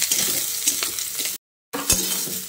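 Marinated soybean chunks fry in hot mustard oil with a dense, steady sizzle, cut by a brief silent gap and then a sharp clatter as frying resumes.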